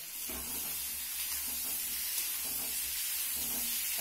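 Potatoes and green tomato frying together in a pan, giving a steady close hiss and sizzle with faint low crackles underneath and no voices.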